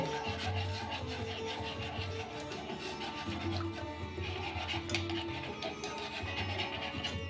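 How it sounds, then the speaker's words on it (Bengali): Powdered milk is stirred into milk in a bowl, making continuous close scraping and rubbing swirls with a soft rhythmic hum underneath, steady and moderately loud throughout with no talking. "এখন আমি এই দুধটার মধ্যে দিয়ে দেব দুটো দশ টাকা দামের গুঁড়ো দুধ দিয়ে ভালো করে মিশিয়ে দেব"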